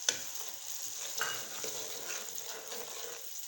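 Onion browned lightly with a yogurt masala fries in a pan under a constant soft sizzle, with gentle stirring scrapes now and then; close and fairly quiet, no voices.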